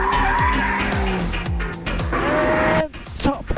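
A Maserati 3-litre twin-turbo V6 revs hard toward 8000 rpm, its loud, close note climbing and dropping through several rapid gear changes, with a brief tire squeal near the end.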